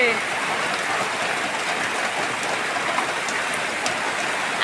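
Heavy rain pours down in a constant, even roar, close and uninterrupted from start to finish.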